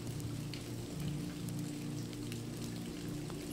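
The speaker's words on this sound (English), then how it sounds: "Rain splatters on the pond." Rain patters and splatters steadily onto a pond's surface, a soft, dense, even hiss of countless drops heard at a distance, with no voices.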